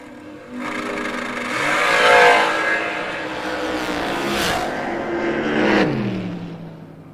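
Drag racing cars, one on a 416 and one on a 538, accelerate hard at a Gulfport race. A loud, close engine roar swells and holds for several seconds, then fades as they pass, with no talk over it.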